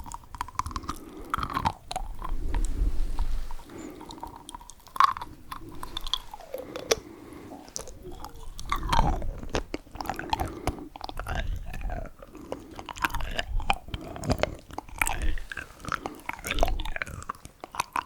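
Close, quiet ASMR mouth sounds of chewing and biting, wet crunchy smacks arriving in irregular bursts throughout with brief gaps, with no talking.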